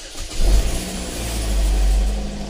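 A 2015 Chevrolet Equinox with a 2.4L engine cranks and starts up close, then settles into a loud, steady mid-pitched running rumble with a slight swell in revs.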